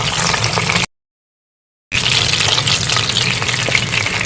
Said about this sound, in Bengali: বন্ধুরা, আমার মাছগুলো লাল লাল করে ভাজা হয়ে গেছে।